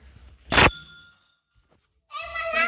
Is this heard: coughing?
no